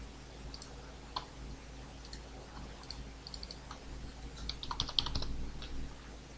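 A transaction PIN typed on a computer keyboard, faint scattered key clicks over a low steady hum, with a quicker cluster of taps near the end.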